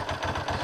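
A 1983 Honda GL650 Silverwing motorcycle engine idling cold while warming up, a fast, even low chugging pulse with light mechanical clatter, close and steady.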